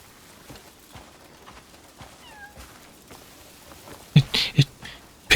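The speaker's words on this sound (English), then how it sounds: "Also, I got a cat." A pet cat in Crimson Desert gives a few short meows around the midpoint, faint beneath a steady ambient bed, followed by louder bursts of noise near the end.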